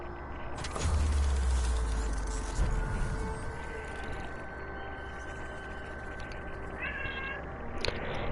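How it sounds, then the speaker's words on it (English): A pet cat meows near a door, wanting to be let outside, several voiced calls over steady background hum and room noise with faint game-like tones. "Alright, my cat wants to leave, so I shall let him out."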